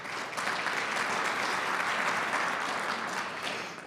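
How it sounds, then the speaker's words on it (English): Audience applause at an energy industry event, a steady wash of many hands clapping that swells quickly and holds for several seconds before tapering, with no talk over it. "How about a round of applause?"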